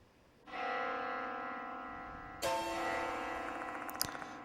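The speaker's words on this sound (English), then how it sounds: "This bell sound is..." A bell in the video game Spirit Hunter: Death Mark II rings out twice, each strike resonant and sustained with a long shimmering decay, the second overlapping the first.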